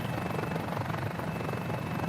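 A Mini-500 ultralight helicopter cruises in Microsoft Flight Simulator with a steady, close, droning rotor and engine roar that keeps an even dense texture throughout and has no voices over it.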